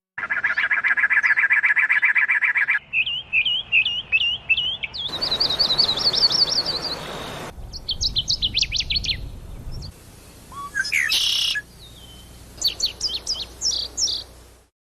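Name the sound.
birds chirping and singing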